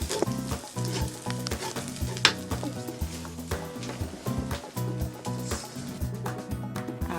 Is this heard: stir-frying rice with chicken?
yes